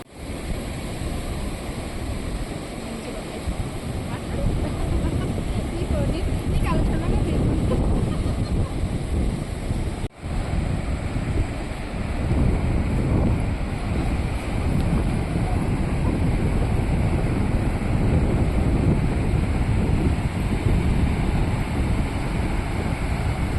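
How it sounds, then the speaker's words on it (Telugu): Sea waves crash steadily onto the shore, a loud, continuous broadband roar with gusts of wind buffeting the microphone throughout. "కానీ ఇంత దగ్గరగా ఈ అలల సౌండ్ వింటుంటే"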